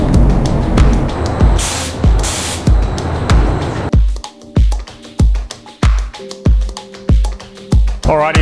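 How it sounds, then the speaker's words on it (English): 2K high-fill primer is sprayed onto plastic with a spray gun, coming as short repeated hissing bursts in a steady rhythm with brief pauses between passes. The gun is close and fairly loud. "you can do this job using spray cans, you can do it with a spray gun"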